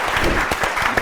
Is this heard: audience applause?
yes